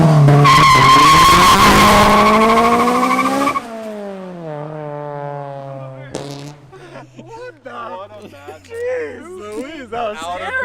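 A Honda engine screams hard into VTEC with tires skidding and squealing, loud and close for a few seconds before dropping off, then people talk excitedly over a lingering low rumble.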